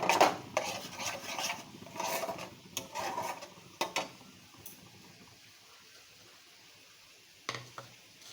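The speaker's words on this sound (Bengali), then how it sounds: "টক দইটা দিয়েও ভালো করে নাড়াচাড়া করব।" A spoon scrapes and clinks against a pan as yogurt is stirred into a prawn malai curry, with a handful of soft, irregular scraping strokes that trail off into near quiet, then one last tap.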